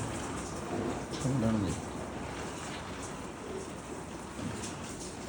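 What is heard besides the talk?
heavy rain falling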